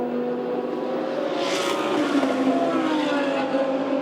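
GT race cars race at The Bend, Fanatec GT World Challenge Australia, with a loud, sustained engine roar that swells as a car passes close, its tone sliding slightly downward.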